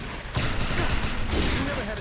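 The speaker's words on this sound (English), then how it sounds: "Shoot the projection while overcharge is activated." Gunfire in the video game Defiance starts abruptly and keeps going as a dense, loud burst of rapid shots that fills the short stretch, with a voice speaking over it.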